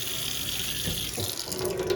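Water runs steadily from a kitchen sink sprayer with poor flow, a continuous hissing splash at close range with no talking.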